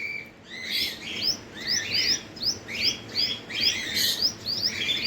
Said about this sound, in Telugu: ఇవేంద్రా ఈ బర్డ్స్ ఇక్కడనే తిరుగుతున్నాయి